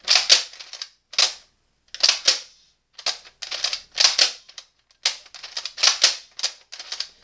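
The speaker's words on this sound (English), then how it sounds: "Just pulling the slide back and pulling the trigger, pulling the slide back, pulling the trigger is a lot faster." Old Nerf Maverick toy blaster worked by hand, a rapid series of crisp plastic clacks and clicks as the slide is pulled back and the trigger snapped, close and loud.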